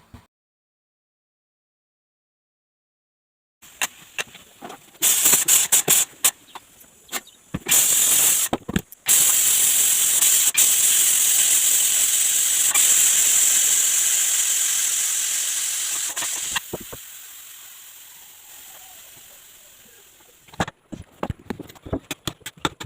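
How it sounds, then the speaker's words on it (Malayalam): A pressure cooker whistle vents a long, loud jet of hissing steam, preceded and followed by sputtering bursts, and the hiss tapers off near the end. "അപ്പോൾ മൂന്ന് വിസിലടിച്ച് കുക്കർ"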